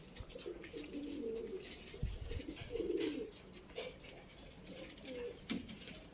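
Pigeons coo in a bird coop, giving soft, low, repeated burbling calls at a modest level. There is a faint rustle and a single bump partway through.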